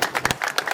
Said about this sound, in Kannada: ಚಪ್ಪಾಳೆಯೊಂದಿಗೆ